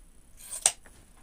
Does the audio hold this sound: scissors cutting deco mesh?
yes